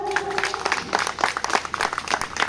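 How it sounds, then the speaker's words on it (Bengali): Crowd applause at a Maha Shivaratri annual temple celebration, a steady patter of many hands clapping throughout, fairly close and loud, with a brief sustained tone at the start. "সকলে মিলে একটা জোরে তালি হোক"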